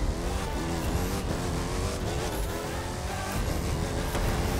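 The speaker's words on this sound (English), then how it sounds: "Okay, so I'm driving the Raptor, which which is pretty cool" A Ford Raptor truck races in The Crew 2, its engine roaring steadily and loudly throughout, with tire noise and music-like layers blended into the constant wash of sound.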